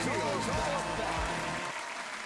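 Loud crowd applause and cheering from a sound effect fills the space, then fades out abruptly partway through, leaving a quieter tail.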